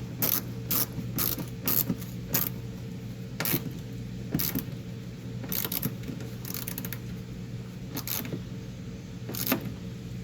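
A ratchet tightening a mud flap bracket bolt on a 2019-2021 Volkswagen Jetta, close up: repeated bursts of sharp clicking pawl sounds in irregular runs over a steady low hum, with no talking.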